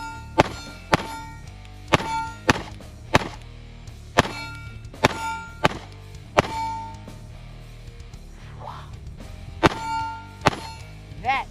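SIG P365 AXG Legion pistol fired at a range, a dozen sharp, close shots spaced unevenly, some in quick pairs, with quiet gaps between them.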